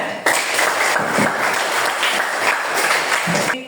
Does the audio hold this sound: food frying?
no